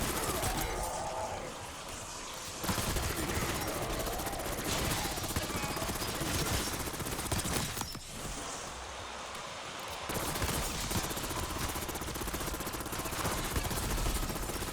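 A buffed gun fires rapidly in Black Ops 6 Zombies, a dense and sustained stream of shots that runs through most of the stretch with brief dips, loud and noisy throughout.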